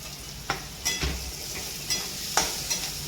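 Carrots and capsicum sautéing in a pan for Gujarati upma, a steady close sizzle broken by several sharp spoon stirs and scrapes.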